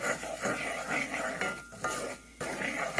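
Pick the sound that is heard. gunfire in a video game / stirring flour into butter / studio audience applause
stirring flour into butter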